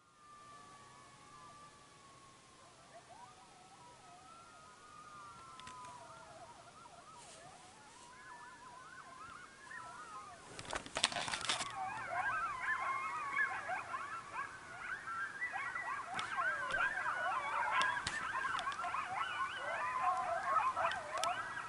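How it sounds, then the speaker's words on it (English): A pack of coyotes howls and yips at night outdoors, thin wavering cries building from a few voices into a dense, overlapping chorus in the second half, moderately distant with no one talking. "These are all coyotes."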